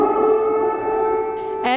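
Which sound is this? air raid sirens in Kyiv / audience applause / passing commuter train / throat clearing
air raid sirens in Kyiv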